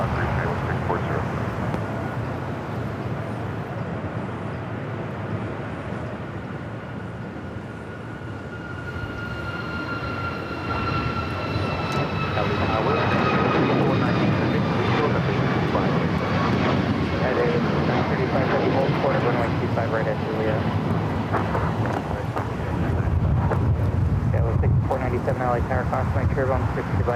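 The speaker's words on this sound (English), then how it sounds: "Next takeoff here on the Southside Air Canada Flight 792 heading to Toronto, a 737 at max 8." An Air Canada Boeing 737 MAX 8 jet takes off from the south side at LAX. Its engine roar builds steadily from a distant rumble to a loud sustained rush, with faint voices heard beneath it.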